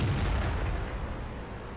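A tank cannon booms in a World of Tanks–style game as an IS-4 heavy tank fires at a Löwe near a house, a loud sustained blast with rumbling low-end decay that fades slowly across the short moment, with no talking.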